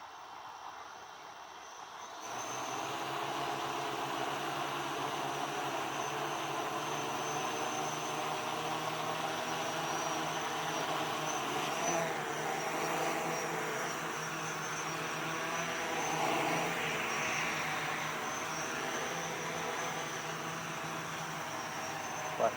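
A hexacopter drone on its first flight spins up after a quiet moment, then holds a steady, droning multi-rotor whine with a faint high tone, continuous and fairly distant for the rest.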